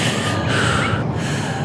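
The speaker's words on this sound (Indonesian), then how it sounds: "Ngos-ngosan" Heavy, rapid panting breaths after climbing Mount Faber in Singapore at night, close and loud, a rough continuous huffing lasting under two seconds.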